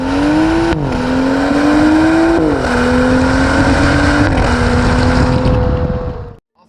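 A 2012 BMW F30 335i launches hard off the line, its engine tone climbing strongly through three gears with brief dips at each shift, loud and close, before it cuts off abruptly.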